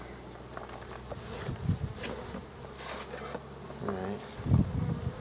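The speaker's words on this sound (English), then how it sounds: "pretty decent amount of bees." Bees buzz steadily around an open beehive during an attempt to save a new queen, a dense close drone under a brief spoken remark and handling noises.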